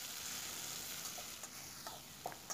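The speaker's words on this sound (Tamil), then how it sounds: "சேர்த்து தக்காளி நல்லா குழைவாக சாஃப்ட் ஆகி வர அளவுக்கு வதக்கிக்கலாம்." Tomatoes and onions sauté in a pan for kurma with a steady, soft sizzle and faint stirring clicks, quiet and continuous without speech.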